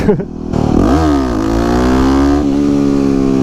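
A supermoto motorcycle engine held at full throttle during wheelie practice, loud and close, rising sharply in pitch and then holding a steady high-revving drone, with a brief dip in revs before it pulls again.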